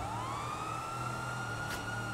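A police car siren in GTA 5 rises into a steady wail over a low engine rumble, heard moderately loud with no talk.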